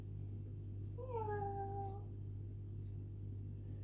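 A single drawn-out meow, quiet and alone over a low steady hum, sounds like a person imitating a cat.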